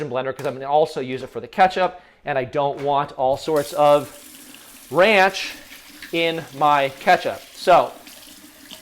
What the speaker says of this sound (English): I'm going to go ahead and I'm going to rinse off my immersion blender